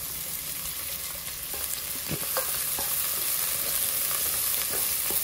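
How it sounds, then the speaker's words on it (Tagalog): Garlic, onion and tomato are stirred in a hot pan, giving a steady sizzle with scraping clicks and stirring knocks up close. "Tapos gisahin lang natin ng konti"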